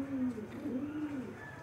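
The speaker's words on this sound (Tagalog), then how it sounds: "Mga kalapati dito." A group of about seven white pigeons gives a short, close, soft throaty coo that wavers up and down, heard alone.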